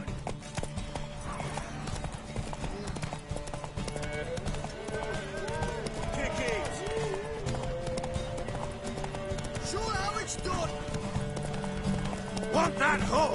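Horse hooves gallop in a steady, rapid clip-clop throughout The Witcher 3 video game, with occasional whinnies, mixed under game voices and background music.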